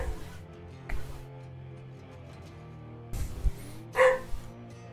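A small house dog barks somewhere in a room, a few short yips and barks spread across the moment, moderately loud over a steady low hum, with no talk.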